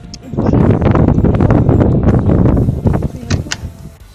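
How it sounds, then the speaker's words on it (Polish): Gusty wind buffets the microphone outdoors while rabbits are fed, with a dense, low rumble that runs nearly the whole time, a voice partly audible beneath it. "przepraszam za ten wiatr, ale trochę umie wieje."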